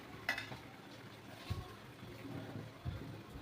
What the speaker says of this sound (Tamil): உப்பு போட்டு நல்லா கிளறி விடலாம்.